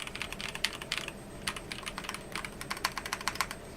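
Rapid keystrokes on a Logitech computer keyboard with a small scroll wheel, its creamy, muted clicks tapping out in a continuous, uneven stream close by, soft and without any talking.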